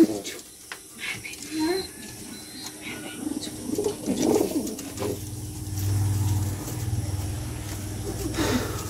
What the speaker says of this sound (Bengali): তো আমি আরও কয়েকটি কবুতর দেখাচ্ছি